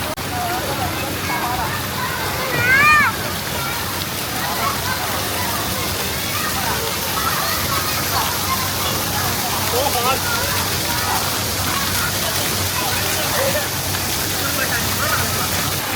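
Water pours down steadily at a waterpark in China, a dense continuous rushing spray beneath a slide that fills the whole scene, with a few faint voices and squeals rising briefly above it.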